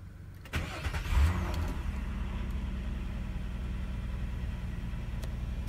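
A 2004 Nissan Maxima with over 145,000 miles starts: a brief crank catches into a steady, close idle rumble that holds to the end.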